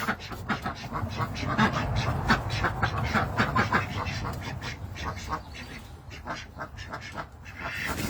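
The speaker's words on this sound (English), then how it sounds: "Ducks are going out because I already opened the door for them." A flock of ducks on a homestead quacks continuously as they head out an opened door, a dense, overlapping chorus of calls close by.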